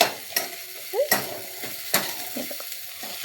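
Chopped onion and tomato fry in a pan while a spatula stirs them, giving sharp scraping clacks every second or so over a steady, soft sizzle close by.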